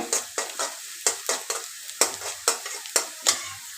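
Prawns fry in a pan while a utensil stirs and scrapes them in quick, regular strokes, about a dozen close, crisp scrapes over a steady sizzle.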